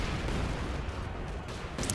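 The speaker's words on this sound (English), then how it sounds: "I sent in an artillery, like an attack, just to get rid of some infantry here" An artillery barrage in the Company of Heroes 2 video game, a dense, loud rumble of blasts and gunfire filling the whole short stretch without pause.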